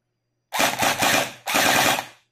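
A JinMing Gen8 M4A1 gel blaster with an upgraded nozzle and replaced tappet plate fires two close, loud full-auto bursts of rapid rattling shots, separated by a short pause, with no talk.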